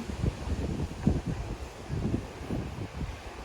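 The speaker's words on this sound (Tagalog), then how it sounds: "talagang malakas ang hangin" Strong wind buffets the microphone in a steady low roar, with gusty swells rising and falling throughout; no one speaks.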